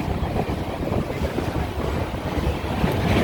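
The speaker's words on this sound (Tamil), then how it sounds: "ட்ரெயின் ஒரே சவுண்டு தொடர் தொடர்ந்து அடிச்சுட்டு வந்துக்கிருக்கு எக்ஸ்பிரஸ் இது" An express train running from Chennai toward Pudukkottai gives a continuous rolling rumble along the rails, heard from on board with wind buffeting and no pauses or voices.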